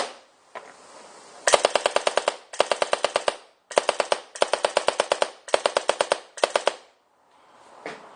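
Rapid bursts of paintball marker shots fired from a new gun running a reg set to 850 PSI, loud and close, in about six quick rhythmic strings separated by short pauses, with no talk.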